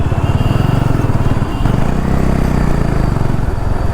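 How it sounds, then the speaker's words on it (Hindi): A Bajaj Dominar motorcycle that is due for a service and running a little jerkily rides through Delhi traffic. Its engine thrums loud and close with a steady throbbing pulse. "थोड़ा झटके दे रही है बाइक्स, बट क्या करें, चलाना तो पड़ेगा।"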